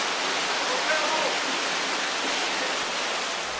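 Water from the Socorro stream rushes through a diversion tunnel, making a steady, loud, dense roar like a waterfall with no break. A voice may be faintly present under the noise.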